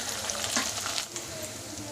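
Onions, shallots, garlic and tomatoes sautéing in a pan for an appalam puli kuzhambu, a steady close sizzle and frying hiss with light stirring scrapes, no voices.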